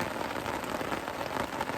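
Steady rain drums on a poncho shelter during an overnight rainstorm, a dense, even patter close overhead with no pauses, heard alone.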